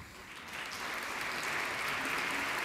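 Audience applause after a talk on how democracies die, a steady broadband clapping that swells in the first half second and holds full and even to the end, with no voices.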